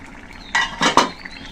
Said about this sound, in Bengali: ঢাকনা তুলে নিলাম